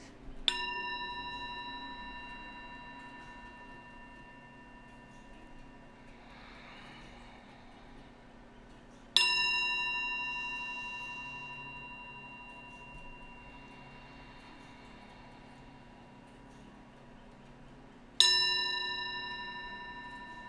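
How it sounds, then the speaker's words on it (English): A gong struck three times at even intervals, each strike ringing out with a bright shimmering tone that slowly decays before the next. "we have this nice gong. Let's focus on the sound 3 times. I'll ring it."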